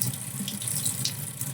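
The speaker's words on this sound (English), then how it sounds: "Just take your piece, run it under the water, let it heat up a little bit." Warm water streams steadily from a tap over a freshly printed resin piece, a continuous close splashing hiss with no pauses and no voices.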